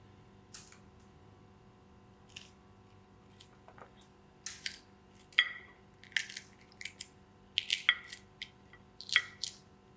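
A knife slices through okra on a board in short, crisp, irregular cuts, sparse at first and then more frequent, close and fairly quiet with no voices.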